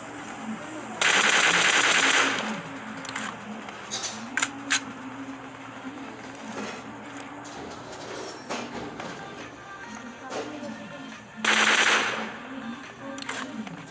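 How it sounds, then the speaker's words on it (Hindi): Automatic AK rifle fire in a battle royale video game: two loud sustained bursts, roughly a second each, a few seconds apart, plus a couple of short isolated shots, over steady game background noise and music. "मैंने AK फायर कर दी"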